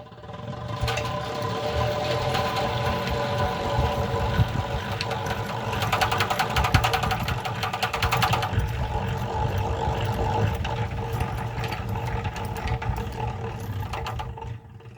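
A honey extractor spins frames of honey comb, a steady continuous mechanical whir and rumble with a rattling hum that holds at a constant level throughout, close by and with no talking.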